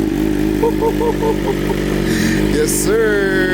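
A BMW M1000RR motorcycle engine runs loud and close with a steady droning tone that rises briefly near the end, while someone speaks a few words over it.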